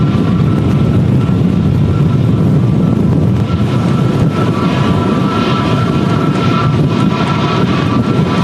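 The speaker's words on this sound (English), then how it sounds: "A321 Neo. Coming in today from Istanbul on Turkish flight 1991" A Turkish Airlines A321neo landing at Manchester in strong storm crosswinds, its engines a loud continuous roar with a faint tonal whine, mixed with gusty wind buffeting the microphone.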